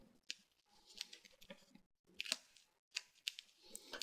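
Scissors trimming Kreinik metallic thread, a few sharp close snips separated by short pauses, quiet overall.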